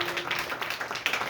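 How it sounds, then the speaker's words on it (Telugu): A congregation claps together during a Sunday morning church service, making a steady run of close, dense hand claps that carries on for the whole stretch. "కొట్టండి చప్పట్లు గట్టిగా"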